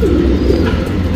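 Pigeons from a paired breeding stock cooing steadily and loudly up close, a continuous low throaty burble through the whole moment with no talk.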